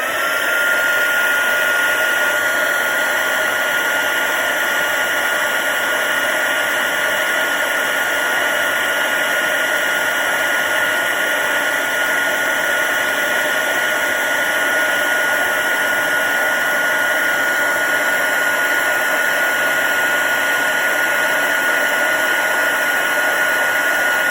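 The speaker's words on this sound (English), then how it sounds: "And then I will heat that with the heat gun or the heat tool." Heat gun blowing steadily on a stamped card in a papercraft setup, a constant close airy whine and rush that holds unbroken from start to finish without any talk.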